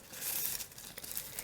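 A flimsy plastic bag being handled while a double slider paper craft is assembled: steady close crinkling and rustling, with a few sharper crackles, for the whole brief moment and no talking.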